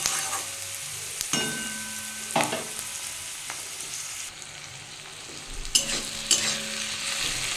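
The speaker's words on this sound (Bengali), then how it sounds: "পেঁয়াজ আর টমেটো একসাথে ভেজে নেব।" Chopped onion and quartered tomato fry together in a pan, giving a steady close sizzle broken by several sharp clinks of a utensil stirring against the pan.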